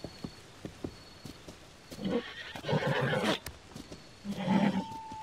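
A horse in the video game Zelda: Tears of the Kingdom whinnies twice in loud, drawn-out neighs, with game footstep clicks and soft effects in between.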